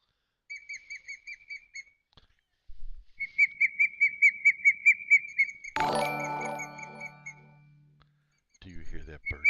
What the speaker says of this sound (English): Do you hear that birdie, baby? Where's that birdie at?